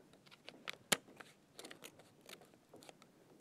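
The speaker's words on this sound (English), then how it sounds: "You can make a hole first with your pencil, and that helps your scissors get in to cut around." Scissors snipping through paper while cutting out mountain shapes for a handmade accordion artist book, a few soft irregular cuts with one sharper close snip, quiet and close with no talking.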